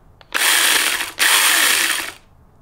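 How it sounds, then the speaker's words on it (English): A wrench ratcheting tight on the chain of a SuperSaw mini electric chainsaw: two rapid, close buzzing bursts of ratchet clicks with a brief pause between them. "we'll tighten it up with the included wrench"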